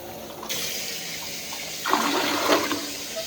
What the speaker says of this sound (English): pour it down the drain right here, flush that down in there